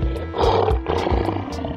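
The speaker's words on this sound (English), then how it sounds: "Lion." A lion roars in an animal guess-the-door escape challenge game, a loud, close, rumbling growl that swells and pulses over about two seconds.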